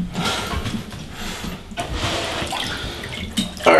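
Cold water being poured into a container, splashing in uneven bursts with brief pauses, close and moderately loud.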